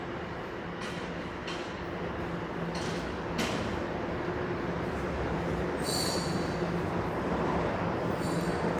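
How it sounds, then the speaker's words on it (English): A Toronto subway train rolls into a station with a steady, building rumble, a few sharp clanks early on and high squeals from the wheels later. "Sounds like a train might be rolling in."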